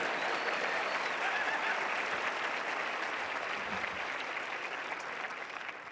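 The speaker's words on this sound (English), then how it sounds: "You can applaud that. That's worthy of applause." Hall audience at a university lecture breaks into sustained applause, a broad, even clatter of many hands that is moderately distant and gradually fades toward the end.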